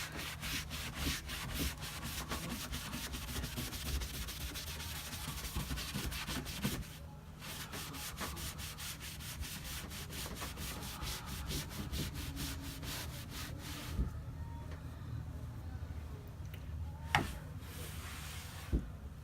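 Buffing a painted wooden headboard with a rag: steady, close rubbing with a fast back-and-forth rhythm, briefly pausing and then resuming, with a few light knocks and no talk.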